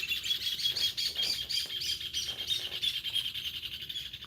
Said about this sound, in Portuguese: Olha os passarinhos, que trupé.